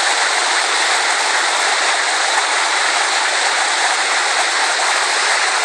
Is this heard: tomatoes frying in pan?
no